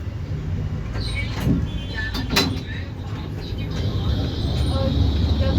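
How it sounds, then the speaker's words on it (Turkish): Busy street in Kadıköy, Istanbul, with passing vehicles, a bus engine rumble and scattered clanks and door sounds, while people talk nearby throughout. "Hayır, çok trafik var."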